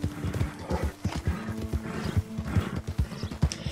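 Horse in Red Dead Redemption II, its hooves clip-clopping steadily at close range with a brief neigh among the steps and light game ambience behind.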